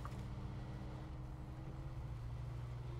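Truck engine running in the SnowRunner video game, a steady low idle rumble that holds evenly through the short stretch, moderately quiet, with no talk over it.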